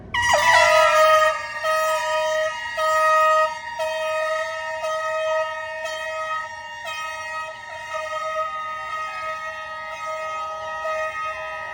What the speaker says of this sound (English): Get your air horns ready.